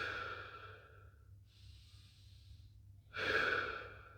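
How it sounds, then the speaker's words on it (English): Deep, slow breaths during a child's pose stretch: a long audible exhale, a quiet pause with a soft breathy inhale, then another strong airy exhale, close and unaccompanied by talk. "Take a couple of deep breaths here."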